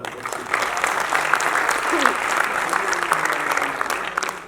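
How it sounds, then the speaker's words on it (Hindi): Audience applause fills a hall at a Faisalabad poetry gathering during a spring festival, a steady, dense clapping from a large crowd that swells and holds for several seconds, with a voice faintly audible beneath. "डीसी साहब के लिए तालियां हो जाए।"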